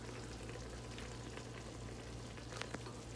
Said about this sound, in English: The onions are kind of cooking.